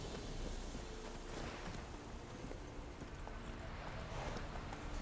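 A horse gallops in The Witcher 3, its hooves drumming in a fast, continuous clip-clop over a dense game soundscape at moderate loudness.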